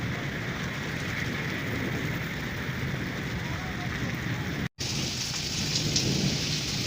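Thunderstorm with heavy, wind-driven rain in a village, a dense steady roar of downpour and rumbling thunder filling the scene, with a brief cut partway through.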